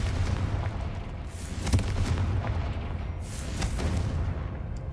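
The Confringo explosive spell cast in the Hogwarts Legacy video game bursts into deep, rumbling booms, with two or three sharp blasts rising over a continuous low roar.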